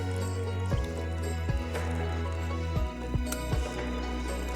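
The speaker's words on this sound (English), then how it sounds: "now we'll whisk this up" Strawberry pie filling is whisked in a bowl, making wet, sloshing liquid swishes with several sharp taps and clinks of the whisk against the bowl, heard close up.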